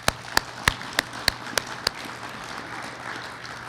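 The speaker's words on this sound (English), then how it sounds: "So everybody get yourself a round of applause." Seven sharp, evenly spaced claps ring out at a prison education awards ceremony honouring graduates, fairly loud and close, then give way to a quiet room tone.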